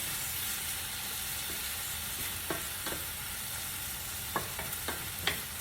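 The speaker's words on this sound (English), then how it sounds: "And then we're gonna stir fry the cabbage." Cabbage stir-fried in a hot pan gives a steady hiss and sizzle, broken by a few sharp scrapes and knocks of a utensil against the pan, close by with no talking.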